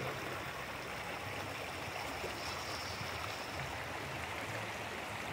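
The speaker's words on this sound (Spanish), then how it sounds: "Así está el río Cañaveralejo, arriba en el Cerro de la Campana" The rising Cañaveralejo river in Cali, Colombia, swollen by rain up on Cerro de la Campana, gives a continuous, even rushing roar of flowing water, heard from a distance at moderate level with no voices.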